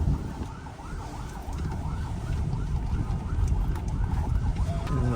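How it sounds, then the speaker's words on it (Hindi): An ambulance siren wails in repeated rising and falling sweeps on a road under construction, growing louder over a steady rumble of nearby traffic. "एम्बुलेंस भी आ रही है"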